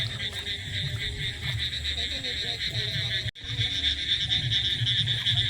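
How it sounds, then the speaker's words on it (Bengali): Crickets chirping at night near a pond in the pre-monsoon season, a steady dense high trill that runs without a break, joined by low croaking and rustling underneath. "এই রাতে একটা জিনিস খুব ভালো লাগে, ঝিঁঝি পোকার ডাকটা খুব দারুণ লাগে।"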